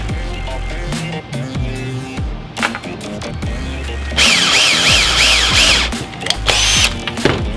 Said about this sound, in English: we're gonna use a 1/4-inch drill bit on this